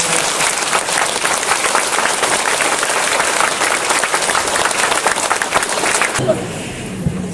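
A congregation at a joint Easter service in Muan claps together in a dense, even round of applause that stops abruptly near the end, leaving quieter room noise.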